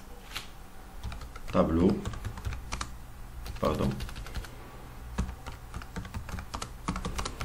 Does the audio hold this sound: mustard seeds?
no